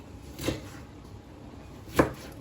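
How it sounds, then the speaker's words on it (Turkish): Two sharp, separate knife chops on a cutting board, about a second and a half apart, as ingredients are cut finely for Turkish paper kebab (kağıt kebabı) in a home kitchen. A quiet room hum sits between the strokes. "ne kadar ince doğrarsak o kadar iyi olacak"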